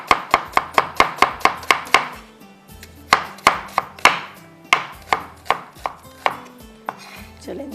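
A knife chops onions on a cutting board in close, crisp strokes: a fast steady run of about a dozen chops, a brief pause, then further uneven bursts, with no voices.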